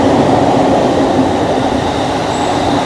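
A train passes close by in Japan, a loud continuous rumble of rail cars on the track with steady rolling noise throughout, no talking.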